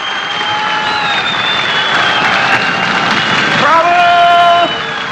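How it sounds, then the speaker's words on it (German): A theatre audience in a 1958 German-Austrian film claps in a loud, continuous wash of applause mixed with hissing, while voices and tonal sounds from the scene run over it. "Beifall und Zischen."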